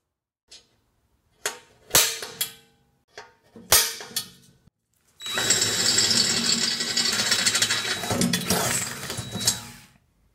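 A few sharp clicks and knocks, then a power drill whirs steadily for about five seconds at close range before stopping.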